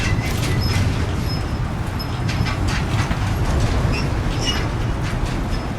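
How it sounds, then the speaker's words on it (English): A monorail in the video game Death Stranding 2 rumbles past, a heavy low rolling drone with light clattering and thin metallic tones, loud and sustained across the whole span. "Okay, so there's another monorail going."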